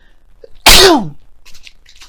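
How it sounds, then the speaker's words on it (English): A single loud, sudden sneeze close up, with a sharp burst and a falling tail, surrounded by near silence. "I just felt that sneeze come on."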